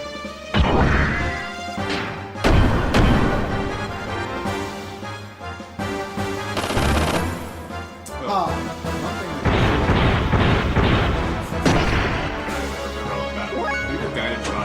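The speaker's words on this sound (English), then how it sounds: "and explosions!" Repeated loud crashes, thumps and booms from a giant robot martial-arts fight in the Xenogears video game, coming in bursts over about fifteen seconds with people talking over them.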